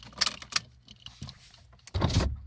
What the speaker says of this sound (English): I've got to open my window,